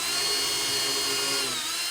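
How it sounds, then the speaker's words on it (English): A power drill with a 1/4 inch bit bores a pilot hole in wood, a steady high whine held close and loud for the whole moment, with no talk over it. "I'm going to go ahead and drill a pilot hole for screw up here."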